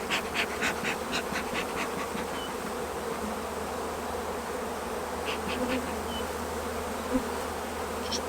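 Honey bees hum steadily in an open hive during queen rearing, a dense continuous drone close by with a few faint clicks and knocks of hive parts over it.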